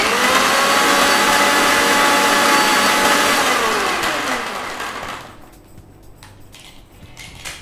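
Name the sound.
blender mixing chilled milk into ghewar batter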